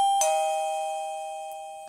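A wifi camera doorbell, model D1, sounds a single clear electronic chime that rings out and slowly fades over about two seconds, alone in a quiet room.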